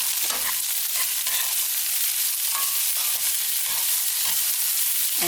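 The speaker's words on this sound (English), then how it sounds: "So I am stir frying this." Vegetables sizzle steadily in a hot pan while being stir-fried as a keto rice substitute, a bright continuous hiss with occasional scrapes and stirring clicks close by.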